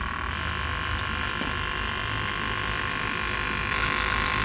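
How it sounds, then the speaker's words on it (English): The 3D-printed water pump of a cat water fountain runs as a steady, close electric hum with a buzzing tone, unbroken throughout, while any trickle of water is barely noticeable beneath it. "So you can see water is just barely trickling out."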